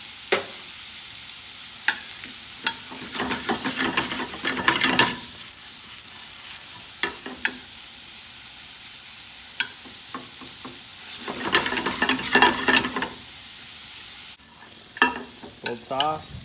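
Salmon Wellington ingredients tossed in hot oil in a pan sizzle steadily, with bursts of louder frying and scraping as the food is stirred and tossed, plus scattered sharp clicks of the utensil against the pan; no talking.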